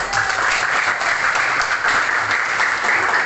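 A classroom of Indonesian schoolchildren claps again, louder and more energetic, a thick, continuous wash of hands filling the room for a few seconds.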